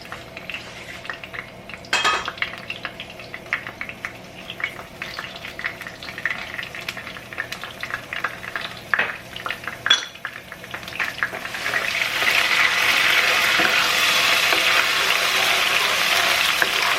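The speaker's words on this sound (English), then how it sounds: "You guys hear it sizzling?" Garlic sizzles as it fries in a pan, utensils clinking against cookware in scattered taps at first before the frying rises into a steady, bright hiss that fills the last several seconds.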